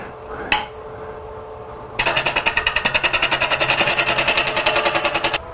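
A JET JWL-1642EVS wood lathe spins up an out-of-balance wooden blank at about 600 RPM, giving a fast rhythmic thumping whir that starts abruptly after a brief clack and holds steady for several seconds.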